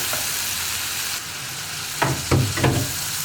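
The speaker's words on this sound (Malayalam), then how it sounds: "ഇനി അരപ്പിൽ നിന്ന് നന്നായിട്ട് എണ്ണ തെളിഞ്ഞ് വരുന്നത് വരെ നമ്മളൊന്ന് ഇളക്കി കുക്ക് ചെയ്തെടുക്കുക" Ground masala paste for a vegetable mappas fries and sizzles in a pan as it is stirred, a steady close hiss broken by a few louder scraping strokes near the end; no talking.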